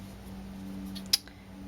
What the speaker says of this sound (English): I'm going to cut out, let's see, a little triangle of foam tape.